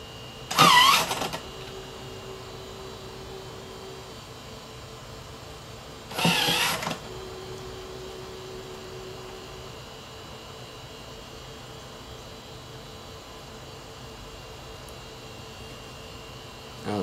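A B9 Creator 3-D printer works through its layers with two short, loud mechanical whirring bursts several seconds apart, each followed by a faint sustained tone fading into a quiet background hum.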